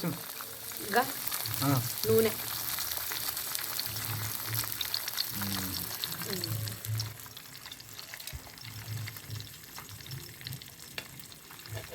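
Fish pieces frying in hot oil in a home kitchen, a soft steady sizzle with occasional clatter and stirring noises, faint and close, with brief voices in the background.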